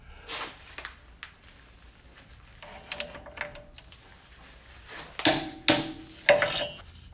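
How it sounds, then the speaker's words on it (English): Torque wrench clicking while a front wheel bearing with ABS is tightened on a GMC Envoy: scattered metallic clinks and ratchet taps, then a few sharper louder clicks near the end, close and otherwise quiet. "We are torquing it to factory specs at 135. Take it till it clicks."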